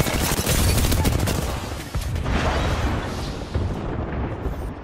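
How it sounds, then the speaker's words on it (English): Grenades explode in a first-person shooter on a night map at Hammond Labs, a dense, loud roar of blasts and gunfire running continuously with heavy low rumble, easing slightly toward the end. "Those are grenades."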